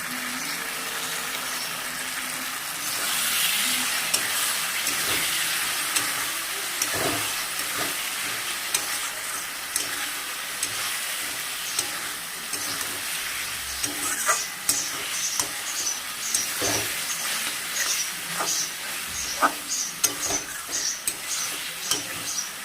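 Katla fish head curry with dry chilli powder and gobindobhog rice cooks down in oil, a continuous loud sizzle and hiss from the pan with frequent scraping and tapping of a spatula as it is stirred, close up and without speech.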